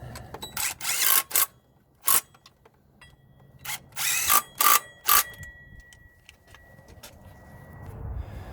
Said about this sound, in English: I'm going to torque these down to 38